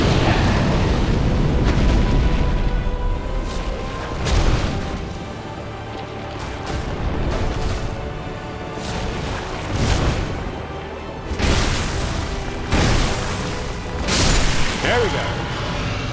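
Fire spell explosions in Dark Souls 2 erupt as several heavy booming bursts at irregular intervals, loud and close, over rumbling game ambience, with a voice talking through much of it.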